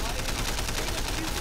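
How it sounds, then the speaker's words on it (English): Rapid bursts of automatic gunfire from the video game Sleeping Dogs, a loud, dense rattle of shots firing nonstop throughout. "suppressive fire coming at you."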